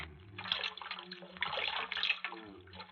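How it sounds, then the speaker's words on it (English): Cold water for bathing an injured man's head splashes and pours steadily in a basin, a soft continuous trickle close by with no voices. "this cold water will help that head"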